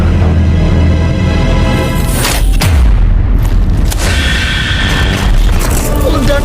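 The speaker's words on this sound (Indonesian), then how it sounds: "Ledakan, kekacauan, kebakaran." Explosions in a Mobile Legends game cinematic: loud, continuous booming blasts and rumbling destruction fill the scene, with heavy low-end impacts throughout and a sharper burst partway through.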